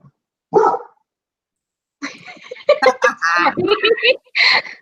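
A dog gives one sharp, close bark, then keeps barking and yelping over several seconds while a person talks nearby.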